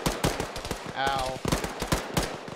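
Automatic and single gunshots crack repeatedly during an Arma military game session, near and loud, with a brief whine in the middle and voices talking over the firing.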